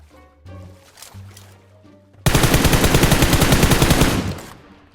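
A sustained burst of automatic gunfire in the PUBG Mobile battle game rattles loud and close for about two seconds, after some quieter game sounds and faint tones.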